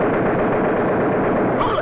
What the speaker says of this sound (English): I guess I can shoot.